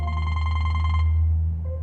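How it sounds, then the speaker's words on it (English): A phone rings loudly and up close with an incoming call, a bright electronic ringtone that holds steady and then shifts tone near the end. "I'm getting a call."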